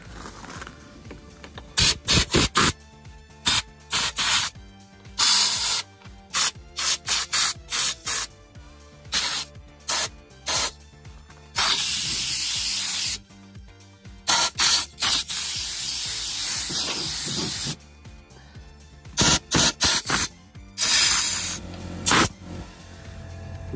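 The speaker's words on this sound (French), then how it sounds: "on va installer directement sur le système d'air comprimé, donc un petit pistolet souffleur." A compressed-air blow gun blasts brake dust off the wheels of a 1985 Peugeot 505 in loud hissing bursts, some short and some held for several seconds, with brief silences between them.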